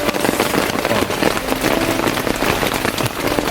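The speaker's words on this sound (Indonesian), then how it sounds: "Ini tuh suara rintik-rintik hujan kayak gini dari dalam tenda." Constant close rain pattering on tent fabric overhead, heard from inside the tent on a mountain summit, an even crackling wash of drops with no voices.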